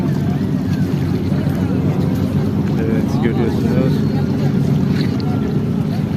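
Ferries on the water along the crowded Üsküdar shore, facing Beşiktaş across the strait, give a steady low engine-like rumble with open waterside ambience throughout, while a person talks over it.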